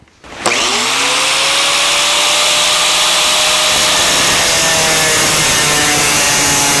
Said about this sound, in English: So I'm just going to go ahead and use a cutoff wheel and cut the line.